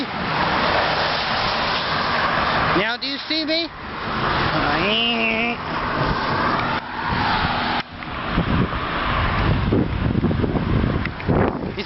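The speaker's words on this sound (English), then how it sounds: "I know you see cars passing by." Cars passing on a rainy street during a thunderstorm, tyre hiss and engine rumble swelling and fading with wind buffeting the microphone, while a person talks over it.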